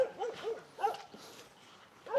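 Dog barking in a mountain village, several short yelping barks and whimpers in irregular bursts at moderate distance, with quiet gaps between them.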